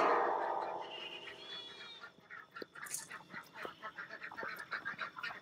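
Ducks and geese honk and quack in a lively outdoor chorus, steady repeated calls close by after an opening rush of noise.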